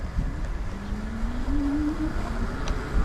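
Lankeleisi MG740 electric bike accelerating on its rear hub motor alone, a faint motor whine rising in pitch over about a second amid wind noise and rough outdoor rumble.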